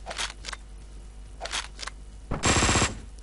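Sharp bursts of gunfire ring out while shooting enemies in the video game Hotline Miami 2, a few quick isolated shots followed by a louder rapid burst near the end.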